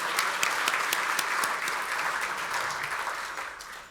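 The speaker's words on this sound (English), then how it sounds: "Oh, yes, you can clap." Steady applause from a gala audience at an arts benefit evening for FTD, a dense wash of many hands clapping that holds evenly and fades slightly toward the end, with no voices over it.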